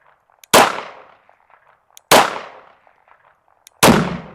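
Three loud gunshots from a .22 or 9mm pistol fired at a pumpkin outdoors, each a sharp crack with a decaying tail, spaced about one and a half seconds apart, with faint clicks between.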